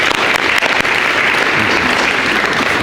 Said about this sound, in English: Should be applauded.